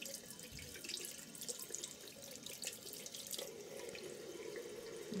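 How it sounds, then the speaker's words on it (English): Water runs steadily from a tap as hands and a makeup brush are rinsed under it, with a continuous hiss and splashing and small shifts as the stream is interrupted. Nearby and moderately soft, with no talking. "I'm just washing that off my hands and the brush."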